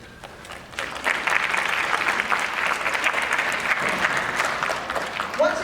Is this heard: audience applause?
yes